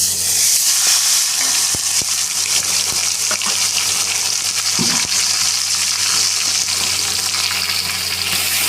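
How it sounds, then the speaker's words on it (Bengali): Ground spice paste added to a pan of already fried dry spices over lowered heat for a prawn and soybean dish, a loud constant sizzle with occasional stirring clicks and scrapes, no voices. "এবার গ্যাসটা কমিয়ে এই বাটা মশলাটা দিয়ে দেবো"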